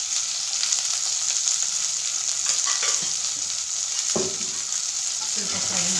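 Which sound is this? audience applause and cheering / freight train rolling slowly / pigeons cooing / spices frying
spices frying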